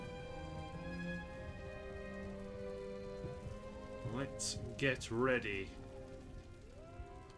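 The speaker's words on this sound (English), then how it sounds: "Oh, rain. Rain is lame." Rain in the strategy game Empire: Total War makes a soft, steady patter beneath tonal game music, and a voice speaks briefly.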